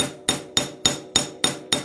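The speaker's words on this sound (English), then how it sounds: "And take my chasing hammer" Chasing hammer pounding the tip of a wire flat for barrel chainmaille, seven sharp metallic strikes at an even steady rhythm, close and clear with no talk.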